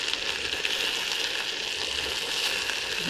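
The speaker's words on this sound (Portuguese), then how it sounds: "Quiabo com abóbora refogado no óleo de coco com alho." Okra and pumpkin sauté in coconut oil with garlic, giving off a steady, bright sizzle that holds at an even level throughout with no talk.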